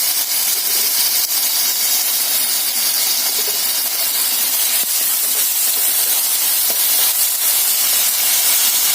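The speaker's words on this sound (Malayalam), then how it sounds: "തീ കുറച്ച് വെച്ചുകൊണ്ട് വഴറ്റാം." Tomatoes with a pinch of salt sautéing over low heat in a pan for a fish masala, giving a steady, close, loud sizzle and hiss that holds evenly throughout with no talking.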